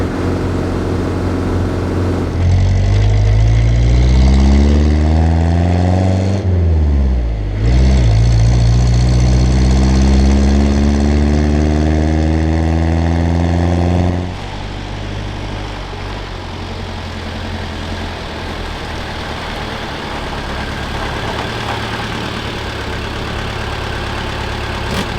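A Mercedes T2 van engine runs loud and close, revving up and down with rising and falling pitch sweeps, then settles into a steadier, slightly quieter drone as the van drives on, with no talk.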